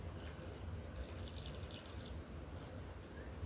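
Water trickles and splashes steadily out of a plant pot, a continuous close pouring sound with no voices.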